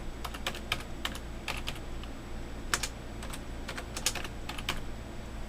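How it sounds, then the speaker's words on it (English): Someone types on a computer keyboard with one hand, giving irregular clusters of light key clicks with short pauses over a low steady room hum, close and fairly quiet, with no talking. "Typing with one hand."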